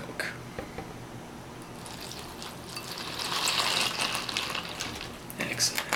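Liquid pours in a steady hissing stream for several seconds, swelling toward the middle and fading near the end, close to the microphone.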